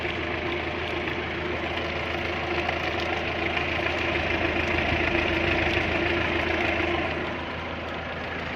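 An old 2.5-litre diesel engine runs steadily at idle with a dense, rough, knocking rumble, close and continuous, dropping slightly in level near the end.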